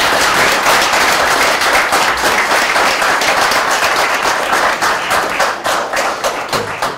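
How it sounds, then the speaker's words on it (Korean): Loud, sustained applause from an audience at a special lecture, many hands clapping in a dense, crackling wash with distinct sharp claps standing out, tapering a little toward the end. "강노자 교수님께 다시 한번 힘찬 박수 부탁드리겠습니다"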